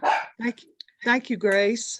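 A dog barks a few times, sharp and fairly close, during a public budget hearing, mixed in with a person speaking.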